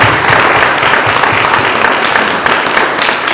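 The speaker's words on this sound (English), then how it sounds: "Can we round of applause" An audience applauds panel speakers at a music industry event, steady dense clapping filling the room loudly and evenly from start to finish with no pauses.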